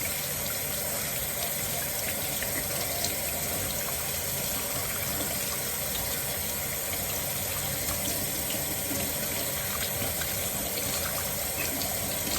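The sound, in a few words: warm tap water running while washing hands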